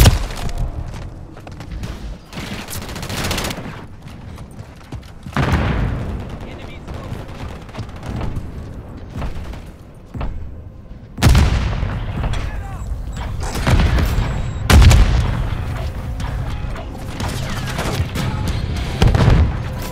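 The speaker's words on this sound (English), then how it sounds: "Taking effective fire." Call of Duty gunfire rattles in heavy bursts with booming impacts, loud and near, separated by brief lulls and mixed with game voices.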